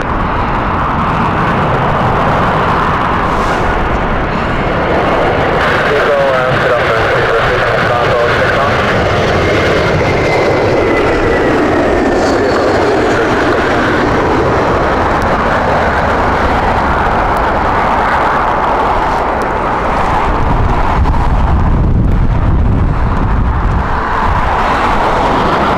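An old airliner on the Gibraltar flight roars at Heathrow Airport in strong crosswinds, a loud sustained jet engine rumble with a slowly shifting whine, as a voice talks over it.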